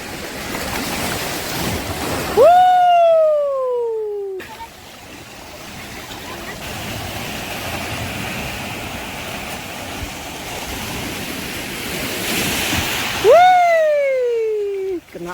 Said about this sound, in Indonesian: Kena ombak lagi.